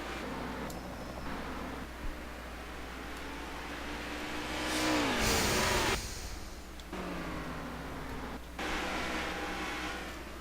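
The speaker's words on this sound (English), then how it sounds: "All of these cars coming by." Street stock race cars roar past on the short oval at Motor Mile Speedway, one loud pass sweeping by mid-clip over a continuous drone of engines circling farther off.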